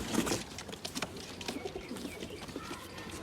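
Soft, low coos from several pigeons close by repeat over a busy background of fluttering and rustling, with no talking.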